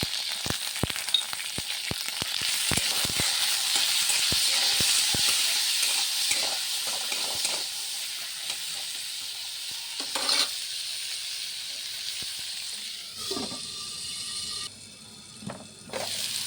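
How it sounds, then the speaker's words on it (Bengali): Steady hissing sizzle of green peas frying in a little oil with salt, with scattered clicks and scraping stirs, the sizzle quieting toward the end. "ভাজা হয়ে গেছে মটরশুঁটি"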